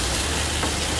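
Potato pieces are stirred with masala alongside chicken in a frying pot for a Durban bunny chow, a soft steady sizzle with a brief scraping stir, close up and alone.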